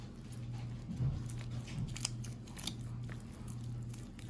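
Scissors snipping through raw chicken thigh bone while preparing raw dog food, a few close crunchy cuts and clicks over a low steady hum.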